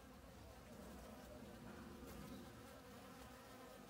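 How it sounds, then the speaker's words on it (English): Bees buzz steadily among blooming dragon fruit flowers, a dense, continuous insect drone that is soft but constant throughout. "Here comes the bee."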